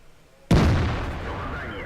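A tank cannon fires a shell in a World of Tanks-style battle: one sudden loud boom followed by a long rumbling decay that fades slowly.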